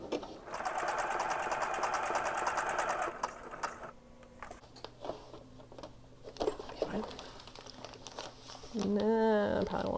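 A sewing machine stitches through an Amazon mailer envelope being made into a journal, a steady close rapid whirring run that stops, then short bursts and rustling paper handling follow, with brief speech near the end.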